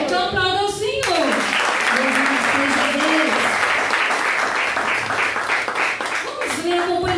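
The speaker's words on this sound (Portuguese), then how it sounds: "Então aplauda ao Senhor." Church congregation at a worship service breaks into sustained applause after a voice speaks, the clapping dense and steady until a voice returns at the end.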